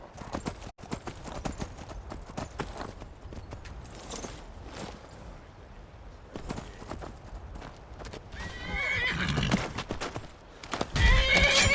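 A horse whinnies loudly amid a rapid clatter of hooves in Skyrim, the galloping growing louder toward the end with game sounds mixed in.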